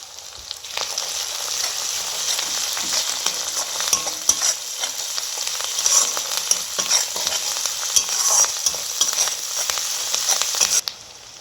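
Onion paste frying in a pan for prawn malai curry, a steady close sizzle running throughout with repeated scraping stirs of a spoon against the pan, no talking.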